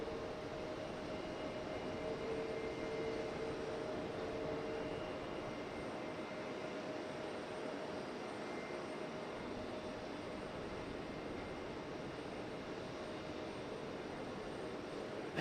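Airliner taking off at Raleigh-Durham International Airport, a steady broadband jet roar that holds at an even, fairly loud level throughout, heard at some distance with no talking.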